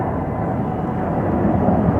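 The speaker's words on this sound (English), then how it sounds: "There's an airplane taking off over there." A distant airplane takes off, a broad, steady roar with no distinct tones, continuous and moderately loud throughout near a construction site in Los Angeles.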